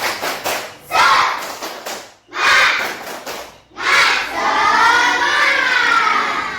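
A class of students does a rhythmic group clap chant, the tepuk semangat, with bursts of patterned claps broken by short pauses, then loud shouted group chanting, close and energetic.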